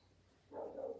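A single short dog bark or yelp comes after a quiet moment, close and moderately loud.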